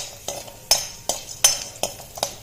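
A utensil stirs pepper, jeera and garlic pods frying in hot oil in a pan for rasam. It clinks sharply against the metal in a steady rhythm of about seven close taps over a soft sizzle.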